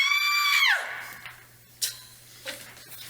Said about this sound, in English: That was a wonderful scream.